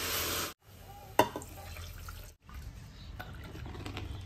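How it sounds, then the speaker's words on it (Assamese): Water splashes into a pressure cooker onto coriander powder and spices frying over a low flame for veg khichdi, giving a steady broadband sizzle with a sharp splash and short pauses. "মছলাটো অলপ ভাজি লৈ এতিয়া দিছোঁ পানী"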